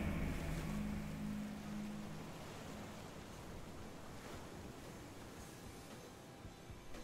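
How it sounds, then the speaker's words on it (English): Ocean surf rolls in a steady broadband wash, loud and continuous with a low rumble early on, wind noise mixed in and no voices. "Now please relax and enjoy some calming sounds of the ocean."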